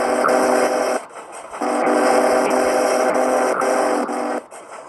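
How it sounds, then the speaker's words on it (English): Steam locomotive whistle in the Trainz 2 railroad simulator, blown in several long loud blasts with brief breaks between them, close and dominant and sounding over the running train. "if I press the whistle"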